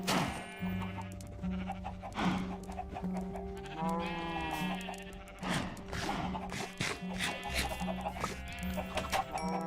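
Minecraft chickens cluck in short repeated bursts alongside bleating farm animals and tonal note-block pulses, fairly quiet and busy with overlapping calls.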